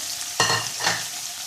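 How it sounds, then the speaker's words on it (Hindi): Garlic and ginger-garlic paste fry in a pan with a bright, close sizzle, marked by two sharp bursts of stirring or spattering within a second and a half, with no voices. "जब ये लहसुन थोड़ा सा, अदरक लहसुन का पेस्ट थोड़ा सा फ्राई हो जाएगा"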